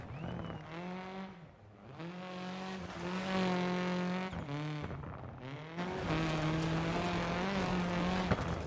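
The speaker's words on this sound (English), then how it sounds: "We go over the crest sideways and sliding the whole way." A rally car on a Finnish stage slides sideways over a crest, its engine droning loudly and steadily with shifting pitch as revs rise and fall, plus a rushing tyre and road roar underneath.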